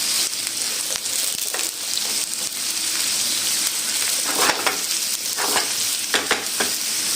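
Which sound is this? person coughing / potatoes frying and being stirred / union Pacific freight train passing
potatoes frying and being stirred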